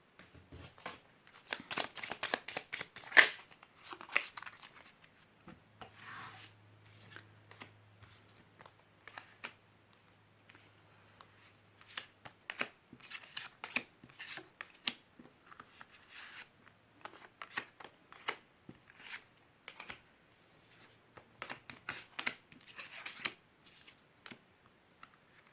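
Petit Lenormand oracle cards being shuffled and laid out on a table, a quiet, close run of rapid riffling flicks and soft slaps, with bursts and pauses throughout and no voices.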